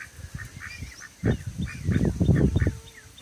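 Geese call with loud, nasal honks, close by in an outdoor flock area alongside other poultry. Irregular bursts cluster toward the end, with fainter background calls between them.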